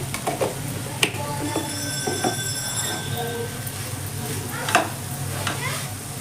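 Ginger-garlic paste sizzles quietly in hot oil while a spoon stirs and scrapes the pan now and then.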